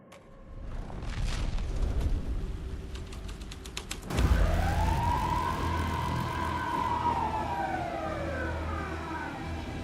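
A police car siren in the video game Alan Wake 2 rises after a rumbling opening and sweeps in a long, loud wail that carries through to the end, with no voices over it.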